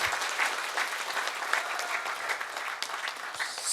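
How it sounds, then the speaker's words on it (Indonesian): A seminar audience gives a round of applause for Pak Haji Handi Bawono, dense, continuous clapping from many hands in an indoor hall, fairly close and steady with a few sharper individual claps standing out. "Tepuk tangan buat Pak Haji Handi Bawono."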